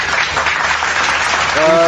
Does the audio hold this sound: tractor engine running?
no